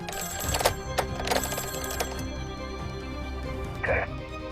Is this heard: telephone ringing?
yes